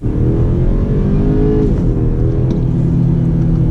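A 2.0-litre four-cylinder direct-injection engine hums steadily from inside the cabin of a BMW X3 or Mercedes-Benz GLC, a muted low drone with light road noise and no talking.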